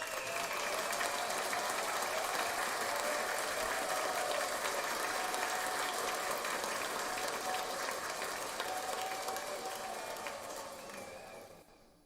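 Steady, dense applause from a crowd, sustained for several seconds before gradually fading away near the end.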